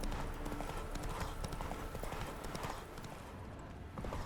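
A horse walks in The Witcher 3, its hooves clip-clopping in a steady close rhythm over a dense bed of game ambience, with a faint voice murmuring underneath.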